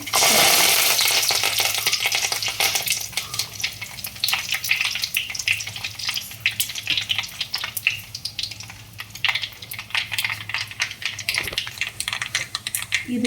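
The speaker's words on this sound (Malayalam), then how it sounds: "വറ്റൽമുളക് ഇട്ട് കൊടുക്കാം അതിലേക്ക് കറിവേപ്പില കൂടി" Dried red chillies and curry leaves fry in hot oil for a Kerala prawn curry, a steady crackling sizzle with scattered sharp pops, loud at first and then settling, with no talk.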